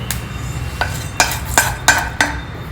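Fenugreek (methi) seeds dry roasting in a pan, a ladle stirring and scraping with several sharp metallic clinks over a faint low rumble.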